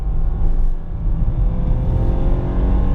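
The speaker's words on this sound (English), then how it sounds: "Full throttle second gear coming out of a corner, and it'll do it" A Honda Fit Sport engine pulls hard at full throttle in second gear coming out of a corner, a loud, steady droning rumble that holds close and strong throughout.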